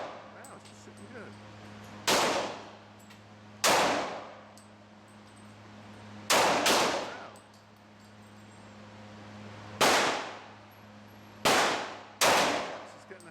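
Sharp .40 caliber pistol shots ring out at an outdoor shooting range, seven loud reports spaced irregularly over about thirteen seconds, each with a short decaying tail over a steady low hum.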